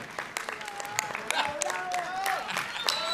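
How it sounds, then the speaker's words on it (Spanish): Audience applause breaks out at the Teletón, scattered claps rising and falling beneath people talking and laughing close by. "Un aplauso fuerte"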